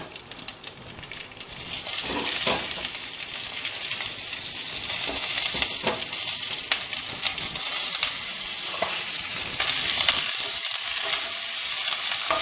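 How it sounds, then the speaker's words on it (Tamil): Cumin seeds, dried red chillies and curry leaves sizzle loudly and steadily in hot oil for a South Indian rice snack, with scattered stirring clicks and crackles running throughout and no talking. "அடுத்தது கறிவேப்பிலை இலைகள் போட்டுக்கலாங்க."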